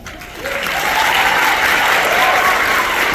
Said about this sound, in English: give Cora a round of applause